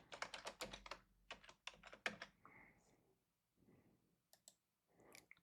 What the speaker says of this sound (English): Let's type our password.